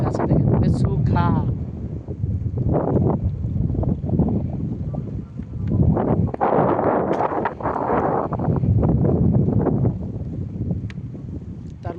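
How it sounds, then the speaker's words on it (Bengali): Steady wind blows across an open mountain valley at Menchukha, roaring and gusting continuously as a loud broadband rush over the whole stretch, with a voice talking over it. "অনবরত এখানে বাতাস বয়ে থাকে"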